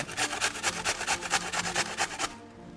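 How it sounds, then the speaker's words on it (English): A whole sweet potato, skin on, is scraped across a coarse grater in about a dozen quick, even strokes, each a loud rasping rub, before the motion stops and the sound falls quiet. "The way that I'm going to start is just by grating the sweet potato."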